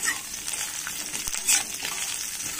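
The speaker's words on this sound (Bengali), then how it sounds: "সবজিটাকে ভালো করে আমরা নেড়ে নেড়ে একটু কষে নেব।" Green beans, sweet potato, potato, carrot and green chilli sizzle steadily in a pan while being stirred, a continuous bright crackle with occasional scraping, close and fairly loud with no voices.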